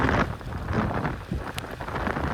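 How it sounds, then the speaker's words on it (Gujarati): Rain falls amid gusty wind noise, a rough, continuous rushing close to the microphone. "વરસાદ શરૂ થઈ ગયો છે"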